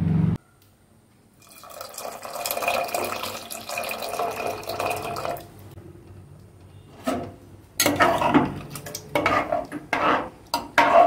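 A spoon stirs warm water into chopped radish in a pressure cooker, giving two stretches of close scraping, sloshing and metallic knocks against the pot, separated by a brief lull.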